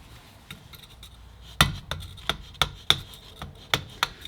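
A screwdriver is struck and used as a chisel on a seized cylinder head exhaust stud bolt, producing a series of sharp metallic taps, faint at first and then louder, spaced roughly every third of a second.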